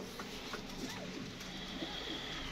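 Pigeons in a loft, a large 'saaz' breed among them, give soft low cooing calls repeated at intervals over a steady close background hiss.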